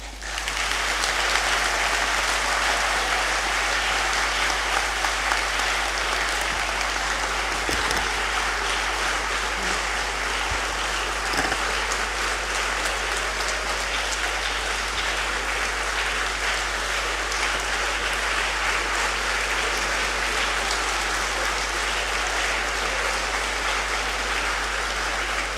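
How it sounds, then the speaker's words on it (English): Sustained audience applause fills the hall after an inaugural lecture by a professor, a steady, dense wash of clapping lasting throughout with no speech over it. "I think the applause says it all."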